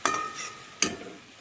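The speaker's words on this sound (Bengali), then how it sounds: "শাকটা ভালো করে ভাজা ভাজা হয়ে গেছে" Bathua greens fry in a pan with a soft, close sizzle, broken by two sharp scrapes of a stirring spoon in a brief moment without talk.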